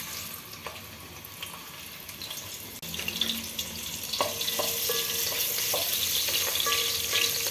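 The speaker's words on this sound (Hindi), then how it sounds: "इसके अंदर 1 medium size अनियन डाल" Medium-size onion goes into about 20 ml of hot oil in a home kitchen while cooking Hyderabadi kheema tahari, giving a steady close sizzle that grows slightly louder and fuller partway through, with no talking.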